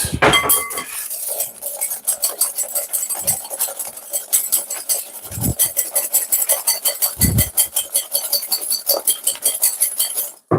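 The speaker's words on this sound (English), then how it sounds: "I'm just whisking some air in that" A whisk beats pancake batter with vanilla in a bowl, a fast, steady run of metallic clinks and scrapes against the bowl sides, loud and continuous with a few brief thumps.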